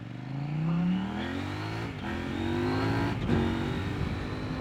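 A Kove 800X Rally adventure motorcycle with an 800cc twin engine on dirt tyres, its exhaust note rising and falling as the rider accelerates through gears, with brief dips at shifts, close and steady.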